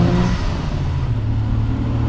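A Nissan Z RZ34 with a custom single exhaust and air-to-air turbo setup revs loudly and steadily close by, a deep rumbling drone that holds throughout with no talk over it.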